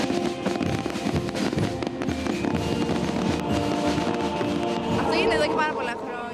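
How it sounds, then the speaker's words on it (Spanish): Fireworks at an Easter celebration on Greece's Ionian Islands crack and pop in rapid, dense bursts, with crowd noise and a few shrill whistles rising near the end. "Los fuegos artificiales."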